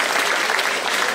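A brief, dense burst of crowd applause for neighbouring guests in a church, steady and fairly loud across its short length, with no clear voices over it.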